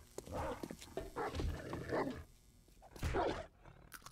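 A dog in the video game 7 Days to Die barks in several loud, close bursts, with growling and scuffling between them over a busy game soundscape.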